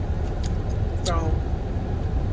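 A steady low rumble fills a car's interior as it idles in a school parent pickup line, and a voice speaks briefly over it.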